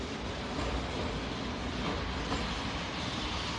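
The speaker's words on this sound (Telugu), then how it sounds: "ట్రైన్ ఇప్పుడు 3వ ప్లాట్ఫామ్ కి వచ్చింది" A train pulling into a platform in an animated cartoon, a dense, steady rumbling roar that stays loud and even throughout, with no speech.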